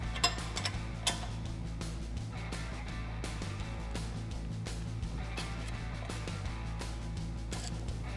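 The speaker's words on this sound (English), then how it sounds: "we hold that at just the right angle with the last couple of turns on our nut here" A hand ratchet clicks steadily as it tightens a nut onto a Teraflex sway bar quick-disconnect stud on a Jeep Wrangler JK, its rapid close ticks running continuously over a low mechanical hum in a workshop.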